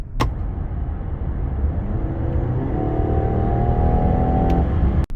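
Steady engine roar of a Mazda CX-60 2.5 e-SKYACTIV PHEV AWD rising into a high electric whine as it accelerates hard on battery power, loud and close, with a brief click near the end.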